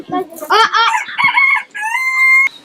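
Chickens and a rooster in a yard give several loud, close crowing calls with harmonic, rising-and-falling cries, then a long sustained crow near the end, with brief clucks mixed in.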